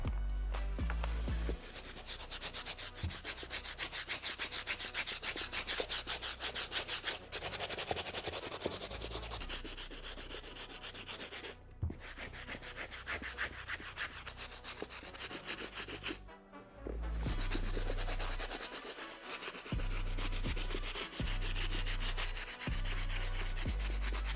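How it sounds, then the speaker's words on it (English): A stiff bristle brush scrubs the rubber outsoles of worn Jordan 3 sneakers, a loud, continuous scratchy rasping in quick back-and-forth strokes, broken by a couple of brief pauses. "time for me to take care of these outsoles using our stiff bristle brush"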